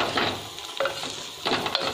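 Curry leaves stirred in a sizzling pan while cooking a fenugreek-leaf and sesame chutney, three soft scraping strokes over a steady light frying hiss.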